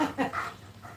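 A rescue dog pants and whimpers softly in short breathy bursts, close by in a quiet room, with no speech over it.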